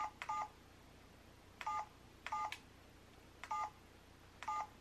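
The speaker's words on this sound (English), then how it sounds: "We're gonna call myself." An old telephone plays a series of short dialing tones, five evenly spaced beep bursts about a second apart, faint and close with a quiet hiss between them.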